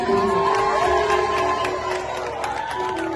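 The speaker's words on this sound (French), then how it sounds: "sentons Monsieur et Madame Mackenzie Mondesi sous l'applaudissement." A wedding ceremony crowd applauds and cheers, with steady clapping and a few shouts and whoops mixed in throughout.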